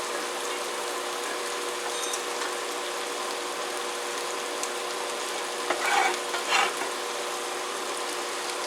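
Kung pao chicken frying in a pan with oil flavored by red pepper, a steady fine sizzle that holds level, with a couple of brief louder clatters near the end.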